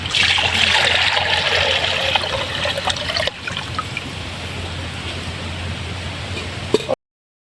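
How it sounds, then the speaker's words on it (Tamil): Milk poured from a vessel into a heated kadai on a stove while preparing a Ganesha puja offering, a steady close trickle and splash that is louder at first, then settles into a softer stream and stops. "இப்போ பாருங்கள் நம்ம பால் வந்து உள்ளே ஊற்றிக்கலாம்"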